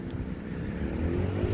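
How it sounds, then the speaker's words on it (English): Traffic on a main street gives a steady low rumble of passing cars, loud and close, with an engine swelling toward the end. "Sorry about the traffic noise."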